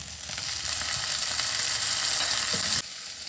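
Onions and tomato frying in a pan for a Chettinad jackfruit kurma, a bright continuous sizzle with light stirring scrapes, close and fairly loud before it suddenly drops away near the end.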